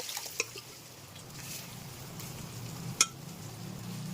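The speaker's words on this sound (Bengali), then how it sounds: "এইবারে প্রেসার কুকার থেকে ডালটা পুরো ঢেলে দেবো" Cooked dal poured from a pressure cooker into a pan: a soft, low liquid slosh runs beneath two sharp metallic clinks of the cooker against the pan, near and fairly quiet, with no talking.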